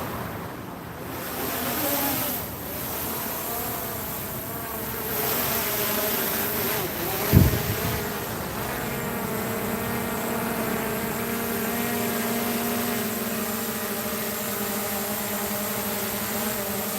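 A drone on low battery hovers and heads back home, its propellers giving a steady, buzzing drone with layered tonal whine that holds evenly throughout, with one brief sharp knock partway through.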